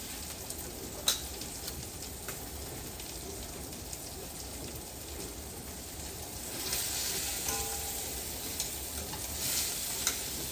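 Pork roast browns in a hot pan on the stove, giving a soft, continuous sizzle and crackle like light rain, with an occasional tap and a slightly louder burst toward the end, no talking.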